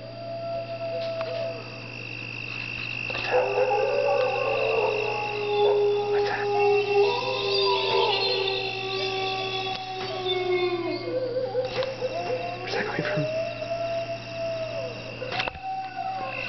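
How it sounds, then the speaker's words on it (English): Wolves howl in long, rising and falling wails that overlap into a chorus, with a few yips and whimpers, over a steady low background hum. "You want to listen to the wolves?"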